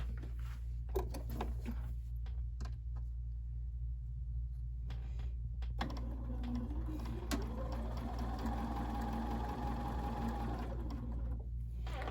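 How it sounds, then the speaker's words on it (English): Home sewing machine chain stitching quilt block rows, a steady mechanical whir running alone for most of the stretch with brief pauses and light handling clicks, close and fairly loud. "I'm going to chain stitch."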